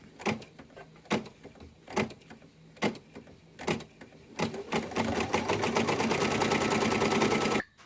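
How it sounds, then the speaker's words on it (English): Machine embroidery stitching a Christmas banner in the hoop: a few separate bursts of needle chatter give way to a steady, loud, rapid mechanical stitching run that continues alone before stopping abruptly. "now we are going to stitch this and stitch round 10"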